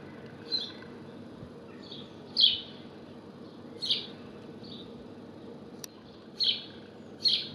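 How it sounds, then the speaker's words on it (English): Small birds at a train station give sharp, high chirps in irregular bursts of one or two notes, fairly close and clear over a low, quiet background hum. "It's really astounding how much noise these little birds can make."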